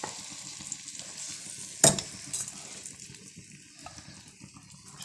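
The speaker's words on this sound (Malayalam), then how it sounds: "അതൊന്ന് ആ നെയ്ക്കകത്തിട്ടൊന്ന് വഴറ്റിയെടുക്കാം" Chopped jackfruit pieces sizzle and fry in hot ghee for a jackfruit payasam, with a sharp stir or spatula clatter near the start and a soft, continuous crackle afterward; no one speaks.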